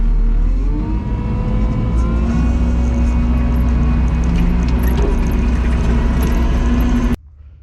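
A Kubota tractor engine runs throttled up under a heavy lifting load, with a loud, steady mid-pitched drone that holds even throughout and then cuts off abruptly near the end.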